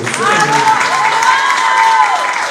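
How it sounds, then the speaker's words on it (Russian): Audience applause and cheering at a jazz orchestra concert in a museum hall, steady crowd clapping under a rising, sustained tonal instrument line. "Еще аплодисменты."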